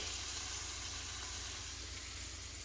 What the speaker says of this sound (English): I'm frying that up right now as we speak